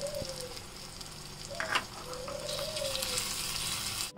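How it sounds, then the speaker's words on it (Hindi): Chicken gizzards fry in a pan with a steady, bright sizzle throughout, broken by a brief louder crackle and spatter partway through; no one speaks. "अब इनको फ्राई करें। ये आप पोटे डाल के थोड़ी देर भुनेंगे।"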